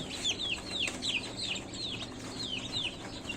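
Many newly delivered chicks cheep inside a shipping box, a dense flock of high, shrill peeps repeating in quick, overlapping bursts, close and steady throughout.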